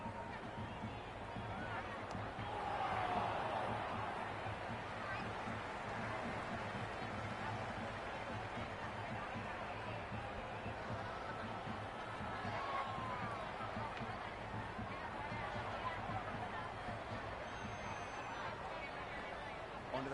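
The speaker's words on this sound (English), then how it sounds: "The crowd are really getting quite raucous." Raucous cricket crowd at a Colombo stadium during a Pakistan versus New Zealand World Cup match, a steady distant roar and babble of spectators swelling briefly, with commentary voices over it.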